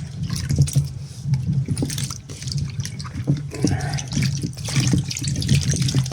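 Water runs and splashes in a kitchen sink as it drains off pickling onions, a steady close trickle with small clinks and drips throughout, no voices.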